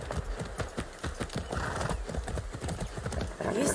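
Rapid hoofbeats of a horse in Far Cry 6 clip-clop in a steady galloping rhythm, close and loud, with the horse whinnying briefly near the end.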